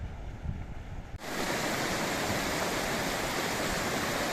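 A glacier-fed alpine waterfall at the Chavière glacier roars as a continuous broadband rush of falling water, growing suddenly louder partway through and then holding steady and full.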